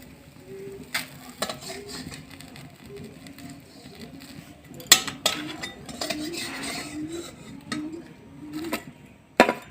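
Metal utensil scraping and clinking against a wok as a fried pitha is flipped and lifted out, with several sharp clinks spread across the stretch over a low sizzle.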